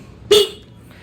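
A single short beep from the horn of a Yamaha Xeon GT125 motorcycle being tested, a brief tonal honk of about a quarter second, fairly close and standing alone.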